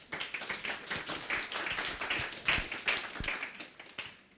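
A smallish audience at a conference session claps in a loose, sparse round of applause, with individual hand claps audible as distinct taps, fairly soft and fading toward the end.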